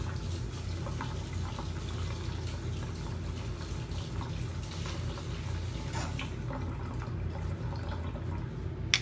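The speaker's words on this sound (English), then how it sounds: "I'm gonna rinse this off." Running water pours over a chalk stencil being rinsed in a sink, a steady close splashing rush with small drips and clicks throughout, fairly quiet and constant, with no talk.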